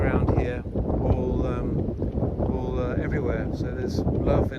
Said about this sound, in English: It's a bit windy, I might have to cut the soundtrack out